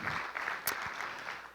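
Applause from a church congregation for a woman preacher, a short burst of clapping of moderate loudness with a sharp louder clap standing out midway.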